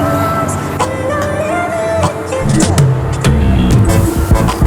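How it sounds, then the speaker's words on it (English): Inside city bus number 41 on Panjakent Road in Samarkand, the engine drones and rumbles while the bus moves, with rattles and clunks from the cabin and a muffled murmur of voices in the background. "We are now on bus number 41 on the way to the bus stand."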